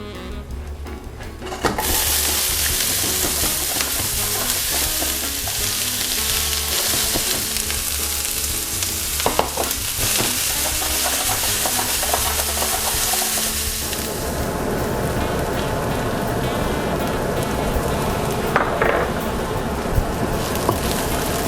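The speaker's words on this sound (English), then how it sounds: "since the frying pan is hot, the oil has to be really hot, not too hot, because it's caramelized onions" Onions fry in hot oil in a frying pan with a loud, continuous crackling sizzle, close and unbroken, with occasional stirring sounds and the texture softening partway through.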